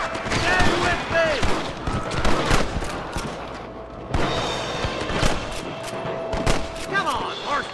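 Dense gunfire crackles through a Red Dead Redemption shootout at Pike Station: rapid overlapping rifle and pistol shots with sharp transients, some close and loud, some further off, and a voice calling out over the din.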